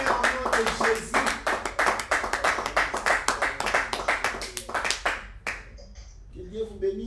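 A congregation at a prayer service claps in a steady, rapid rhythm for about five seconds, then stops, with voices mixed in underneath and continuing after the clapping ends.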